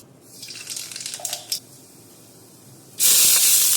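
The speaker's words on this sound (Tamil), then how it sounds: "கடுகு போட்டு நல்லா பொரியணும்" Mustard seeds spluttering in hot oil, crackling and hissing steadily for a while before a sudden loud burst of sizzling spray that continues to the end, close and with no talking.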